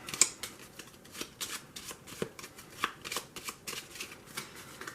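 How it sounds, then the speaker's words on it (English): Ten starter cards for the tabletop card game Dungeon Flee are shuffled by hand in a series of quick riffling, flapping bursts, close and steady, with no talking. "So then we take our 10 starter cards. Let's go ahead and shuffle these up."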